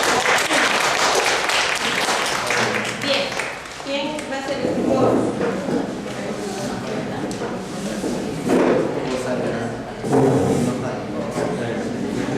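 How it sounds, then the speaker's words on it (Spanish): Applause from an audience of students at an ISO 9001 training session, a dense clatter of clapping lasting several seconds with voices mixed in and some louder bursts late on. "Aplausos, chicos, para ellos."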